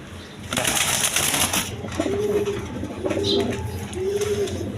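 Pigeons at a bird market give three soft, low coos in steady succession amid a busy background rustle and a burst of louder noise early on.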